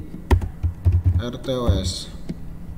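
A computer keyboard is typed on in a short burst of close, distinct key taps, with a brief spoken voice overlapping partway through.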